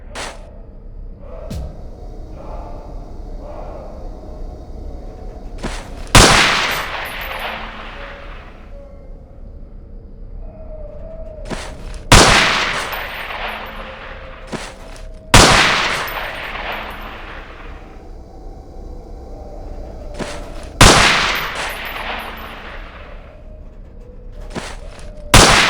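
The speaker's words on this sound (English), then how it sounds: "Pick up that MP5. I'm going to randomly pop up targets in the shed." An MP5 submachine gun in a Half-Life 2 mod is fired at pop-up targets in a training shed. Five loud, short bursts come at irregular intervals, each ringing out with an echoing decay over quiet room tone.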